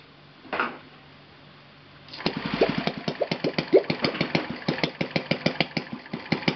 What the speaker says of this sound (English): I was able to set the idle on the left cylinder very, very low.